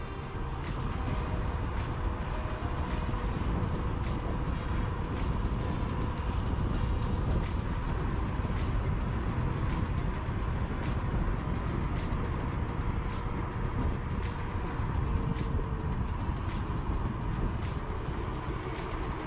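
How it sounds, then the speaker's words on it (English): A car taking turns at a decent speed on a drive around town, giving a steady, continuous road and engine rumble with tire noise throughout, fairly loud and even, with no talking. "Just getting a little bit of a feel how it is doing the turns at a decent speed."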